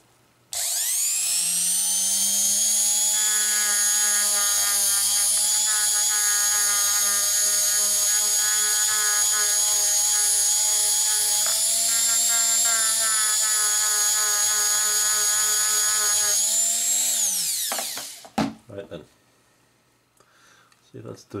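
A cheap 3000 RPM bench polishing motor fitted with a polishing mop spins up and runs with a loud, steady high-pitched whine for about seventeen seconds, then winds down to a stop.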